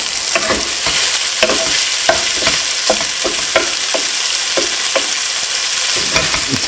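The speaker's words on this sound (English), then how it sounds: "Scrape all that flavour off the bottom. Wooden spatula." A wooden spatula scrapes and stirs sausage frying in a pan over medium heat, rhythmic scraping strokes repeating over a constant loud sizzle, close up with no talk.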